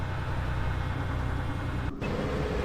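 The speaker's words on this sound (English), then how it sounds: "Follow the definite engine of the APC engine to locate yourself on the map." The engine of an armored personnel carrier in a Fallout video game runs as a steady, heavy rumble with an even low throb. It stays loud and continuous, with a brief dip near the end.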